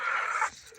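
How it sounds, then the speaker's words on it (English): A farm dog pants in a quick burst of breathy, hissing breaths, close and fairly loud, and then goes quiet. "Yeah, that's a good doggy."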